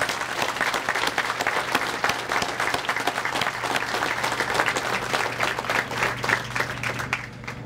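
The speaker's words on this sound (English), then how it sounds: "Let's give them a big round of applause." Crowd applause at a downtown Winston-Salem gathering for the Mast General Store, with dense sustained clapping from many people that carries evenly for several seconds before easing slightly at the end.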